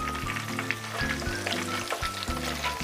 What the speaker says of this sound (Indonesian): Ikan lelenya setelah dimarinasi saya goreng ya teman semuanya.